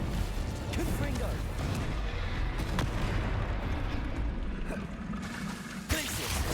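Confringo explosive spell effects in the video game Hogwarts Legacy go off as rumbling blasts and crackling bursts within dense combat noise, while a voice speaks over them.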